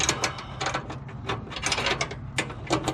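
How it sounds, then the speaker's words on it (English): A nut being turned onto a bolt during a Husqvarna mower deck repair gives a steady run of close, rapid ratcheting clicks and metallic ticks, with no voices. "Now to get the bolt back in the hole where I can turn the nut"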